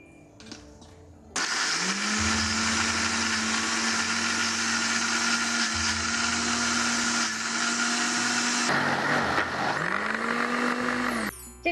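An electric juicer grinds Chinese chives and ginger, starting with a click, then droning loudly and steadily for about ten seconds with a rising motor whine and a brief pitch dip near the end, with no talk.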